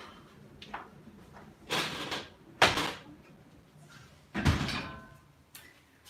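Several movements of an apartment door in Brooklyn: a few soft bumps, then a louder closing thud around the middle, followed by further brief handling sounds in a quiet room.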